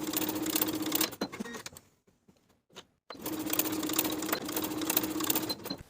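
A sewing machine bastes pant edges to a pocket with a 1/4 inch seam allowance, running in a close, steady whir, pausing briefly with faint handling sounds, then running again.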